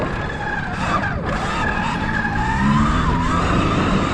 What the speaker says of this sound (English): Breaking the rear tire loose.